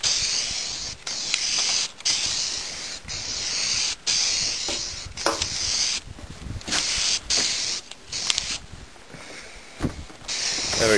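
A spray gun lays primer on a 2006 Harley Dyna Wide Glide motorcycle part in short on-off bursts of close, loud hissing, each pulse starting and stopping quickly with no voices.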